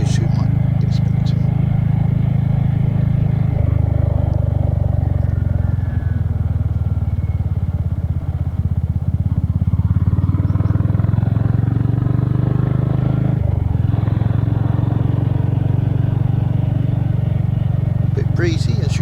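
A Royal Enfield Hunter motorcycle rides along narrow country lanes, its engine a steady low drone with wind buffeting throughout, and someone talks over it.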